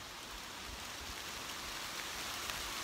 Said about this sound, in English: rain is still tipping down